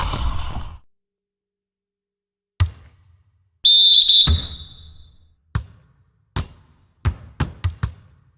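A referee's shrill whistle blows once for a foul in the NBA 2K25 basketball video game, amid sparse hard knocks and bounces on a quiet court, followed by a quick run of sharp taps.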